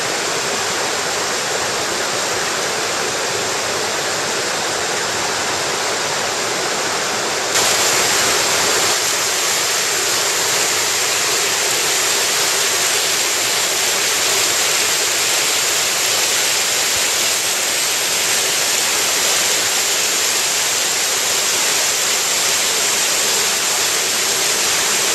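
Mountain stream waterfall at a headwater fishing spot, a steady loud broadband roar of rushing, splashing water that carries on alone throughout and swells slightly louder partway through.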